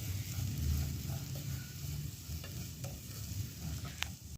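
Capsicum fries in oil for a vegetable pulao, a soft, fairly quiet sizzle over a low rumble, with a few light clicks and taps from the pan.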